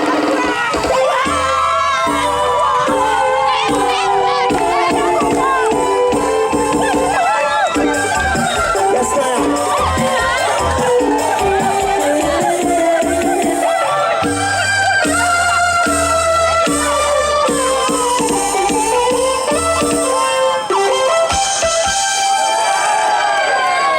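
A large crowd at a street gathering in Haiti cheers and shouts loudly and nonstop, with whoops and children's voices mixed in, while a voice talks over the din.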